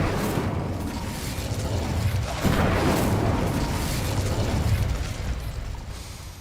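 Incendio fire spell cast in the video game Hogwarts Legacy, a loud dense whooshing rumble that swells midway with a burst of fiery roar, then slowly fades over a steady game ambience.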